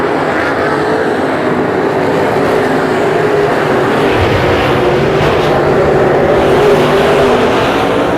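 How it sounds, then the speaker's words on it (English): IMCA race cars roar around Arizona Speedway in close wheel-to-wheel racing, a loud, continuous blend of engines revving and droning as the pack passes through the turns and down the straightaway. "It is side to side, wheel to wheel racing into turn number 3 and around to number 4 down the main straightaway"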